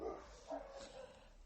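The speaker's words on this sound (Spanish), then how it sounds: "¿Esa que ladra? Es mi perrita, Zelda." A small dog barks and yips in a few short bursts close by, fairly faint against a quiet indoor background with no talk.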